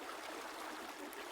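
A river flows in a steady, soft rush, an even hiss of moving water with no breaks, heard faint and alone for a brief moment.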